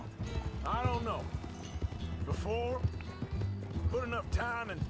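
Hooves of a horse clip-clop in the Red Dead Redemption 2 video game, a steady gait running under repeated bursts of a voice talking over the gameplay.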